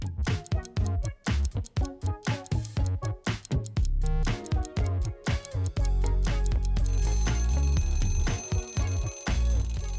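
A countdown timer ticks in a fast, even rhythm during a logo-guessing quiz, then gives way to a sustained ringing alarm tone toward the end; there is no talking.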